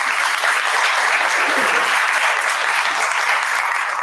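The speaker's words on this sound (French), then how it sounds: "Alors, on les applaudit, mesdames et messieurs." Sustained applause from an audience at a French-language talk or presentation, dense and steady clapping filling the room at close range with no pauses.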